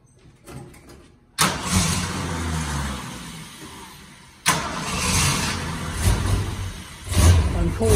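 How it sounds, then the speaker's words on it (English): A 1964.5 Ford Mustang convertible starts from cold: a sharp crank catches and settles into a loud, close idle, then the engine restarts and revs with a brief lifter tapping, while a person talks faintly nearby. "Cold start, there was a little bit of lifter tapping for about 3 seconds till the lifter's pumped up"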